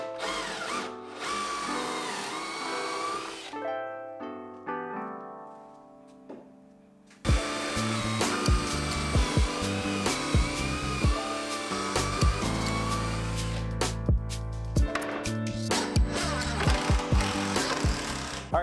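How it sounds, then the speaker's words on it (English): A power drill whirs in bursts, then runs hard and steady with rising and falling pitch as it bores pocket holes into wood with a jig, loud and close. "bring this over to my material and drill the pocket holes there"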